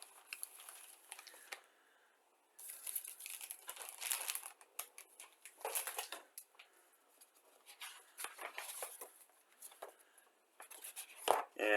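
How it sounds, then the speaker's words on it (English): Plastic packaging of a 1/72 Academy Willys Jeep model kit being opened, intermittent crinkling and rustling bursts with brief quiet gaps, faint and close, ending in a sharper rustle. "Okay, so we'll open up the pack here."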